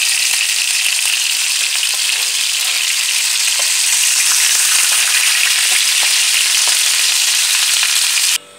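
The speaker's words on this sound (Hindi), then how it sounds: "मैंने एक पैन लिया, उसमें ऑयल डाला सब्जी को फ्राई होने के लिए।" Vegetables frying in oil in a pan, a loud, dense, continuous sizzle that holds steady close up with faint stirring underneath, then stops abruptly at the end.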